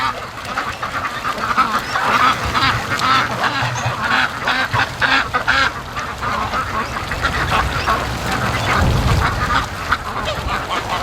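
A flock of free-range ducks heading to the lake keeps up a busy, overlapping quacking, near and steady throughout, with some low wind rumble outdoors.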